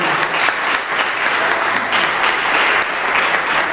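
A church congregation claps loudly and continuously during a worship service, a dense, full patter of many hands that stays steady throughout with no voices above it.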